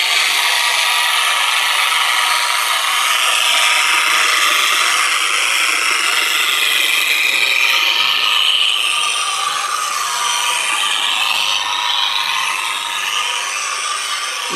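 Steady whirring hum of a power polisher with a soft pad working finishing polish into car paint to remove holograms, continuous and close for the full length, with no talking.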